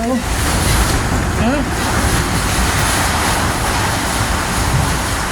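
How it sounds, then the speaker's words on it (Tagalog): Steady, loud roar of heavy rain and gusting wind during a storm in Jeddah, filling the whole clip, with a voice speaking briefly near the start. "napakalakas po ng ulan at hangin sa labas"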